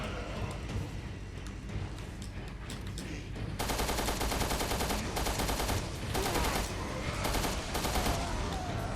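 Rapid gunfire in a zombie shooter video game, bursts of automatic shots coming in clusters over a constant game backdrop, loud and close, with no talk over it.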